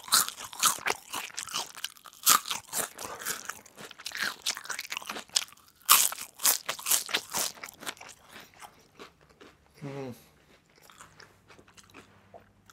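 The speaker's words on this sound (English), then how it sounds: "You ready for the crunching sounds? Extreme crunch." Onion rings served with garlic mayo are bitten and chewed up close, producing a rapid series of sharp, crisp crunches that thin out into quieter chewing toward the end, with no voices.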